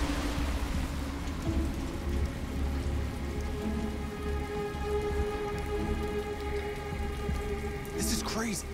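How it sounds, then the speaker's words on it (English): Steady rain falls on surfaces in the rainy city of the Detroit Become Human video game, a constant close hiss with low rumbling underneath and a faint tonal hum building toward the end. "It's always raining, man."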